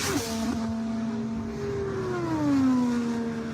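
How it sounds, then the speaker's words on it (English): IndyCar engine during Indianapolis 500 qualifying, a sustained tonal whine that shifts and bends downward in pitch as the car downshifts, steady and moderately loud, with no talking. "A little pop you hear when they downshift the car."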